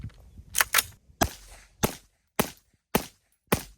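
A rifle fitted with a HuxWrx Flow 36 Ti silencer is fired in a rapid mag dump: about eight sharp suppressed shots, two close together at first and then evenly spaced, loud and close, with short silent gaps between them.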